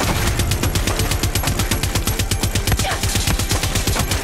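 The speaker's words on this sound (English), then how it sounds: "Now, this is where we use the gun." Automatic gunfire in Far Cry 6, a long rapid string of evenly spaced shots under a dense, loud game soundscape, continuing for the full stretch.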